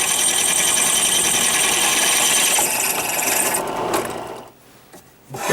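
A drill press whirs and grinds steadily through material for several seconds, then winds down and goes quiet before a brief burst resumes.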